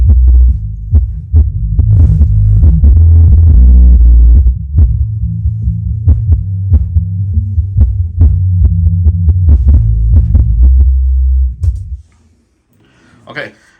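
Rockville Rock Shaker 8-inch studio subwoofer playing deep, throbbing bass in a room, picked up on a phone: rhythmic low pulses with light beats above, ending abruptly into near silence.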